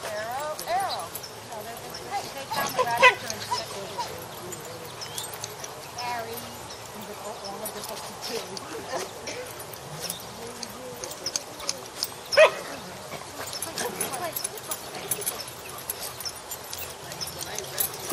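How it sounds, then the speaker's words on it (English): Three dogs at play, a bull terrier, a small black-and-white Boston terrier and another dog, with scattered barks and yips amid scuffling, while a person talks over them much of the time. "The bull terrier and the other dog are playing just fine"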